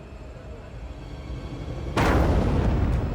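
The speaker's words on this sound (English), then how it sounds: "an explosion in the Kingston Throop Avenue subway station sends a blast of smoke and fire in all directions" Low rumbling ambience inside the Kingston-Throop Avenue subway station in Brooklyn gives way to a sudden loud blast, a broadband boom that lingers as a roaring wash of noise.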